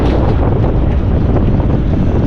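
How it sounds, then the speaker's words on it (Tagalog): Strong wind on Camiguin Island buffets the microphone in a steady, loud roar with low rumbling gusts throughout, no voices. "mahangin po"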